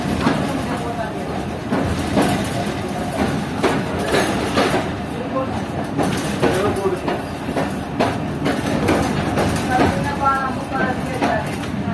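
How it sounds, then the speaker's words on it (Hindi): The 214 Down Moen Jo Daro Express runs along Pakistan's ML-2 line near Habib Kot Junction, with a loud continuous rumble and rhythmic clickety-clack of wheels over rail joints heard from inside, a voice speaking faintly over it. "हमारी ट्रेन पहुंच रही है हबीबकोट जंक्शन रेलवे स्टेशन पर"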